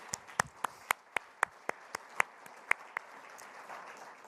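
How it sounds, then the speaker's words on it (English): Scattered, sparse claps from a small audience at a forum, about a dozen distinct hand claps spaced irregularly and fairly quiet, with no talking over them. "So now you can clap."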